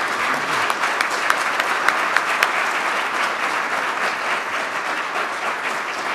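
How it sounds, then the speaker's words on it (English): Sustained, dense audience applause for a panel at a Hispanic community event, steady and full with a few sharper claps standing out, no talk over it. "let's give our panel a big thank you applause"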